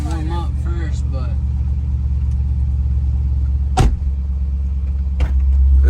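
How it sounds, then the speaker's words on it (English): An SRT Jeep engine idles steadily while warming up after an alternator replacement, a continuous low rumble close by with brief clicks and voices talking over it. "Let your car sit here for a minute and warm up first"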